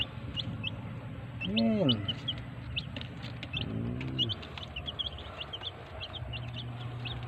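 Rhode Island Red hens cluck softly and a chick chirps in a farmyard, with occasional louder squawks and a person talking nearby.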